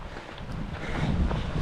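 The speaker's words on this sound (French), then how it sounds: "le vent en pleine face il fait du bien" Steady wind buffeting the microphone while descending on a hike, a broad rushing roar that swells slightly louder toward the end, with no voices.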